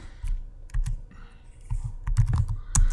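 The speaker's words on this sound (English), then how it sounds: "I'll type in utilities." Fast, irregular clicks of typing on a computer keyboard, close and crisp in short bursts with brief pauses, no voices.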